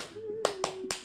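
Three sharp, quick hand claps ring out close by in an uneven rhythm over a faint sustained voice tone.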